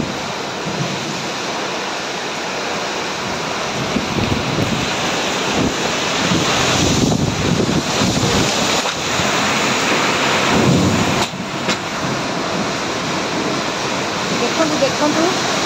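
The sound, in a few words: Kalbaishakhi thunderstorm with wind and rain in Bhadrak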